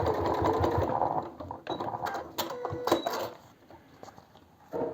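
A sewing machine stitches a fabric pencil case in short, fast whirring runs with brief pauses between them, close and fairly loud, with light handling clatter.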